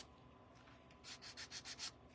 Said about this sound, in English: I'm going to just sand this a little bit